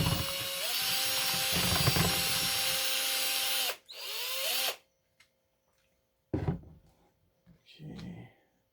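A power drill mixing plaster of Paris whirs loudly, its pitch dipping and rising for a few seconds, then cuts out, leaving quiet broken by short knocks and handling noises.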